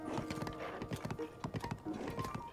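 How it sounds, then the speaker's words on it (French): In Tears of the Kingdom, a horse's hooves clop on cooled magma in a quick, uneven rhythm, close and fairly quiet over the game's ambient sound, with a faint whinny. "le bruit des sabots du cheval sur le magma refroidi"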